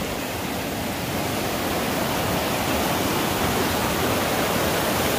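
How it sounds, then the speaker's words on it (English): A creek on the Skyline Trail in Jasper National Park rushes steadily, a loud, close, unbroken hiss of flowing water with no voices over it. "Gorgeous creek here."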